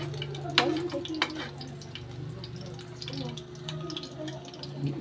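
An egg frying in oil in a sticky pan, a steady low sizzle with occasional scrapes and clinks of a utensil, heard under background noise with a faint steady hum.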